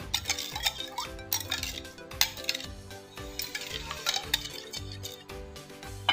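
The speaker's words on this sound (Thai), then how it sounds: "คนให้ส่วนผสมละลาย" Seasoning powder being stirred into a Thai khanom chin noodle salad mixture with pla ra, giving close, busy clinks and scrapes of a utensil against the bowl, heard over music.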